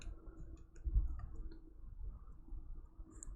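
Board game tokens for Talisman Legendary Tales shuffled together on a table, giving a soft, continuous patter of small clicks and rattles, faint and close, with no talking.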